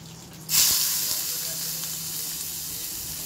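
Peanuts hit hot oil with a sudden loud hiss, then settle into a steady, close sizzle as they fry for a mushroom-flower chop, the crackle fading slightly but continuing to the end.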